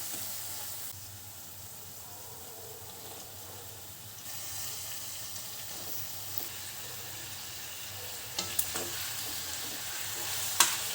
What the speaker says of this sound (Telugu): ఈ చికెన్ని మంచిగా కలుపుకొని ఒక 5 నిమిషాల పాటు హై ఫ్లేమ్ మీద మంచిగా వేయిద్దాం.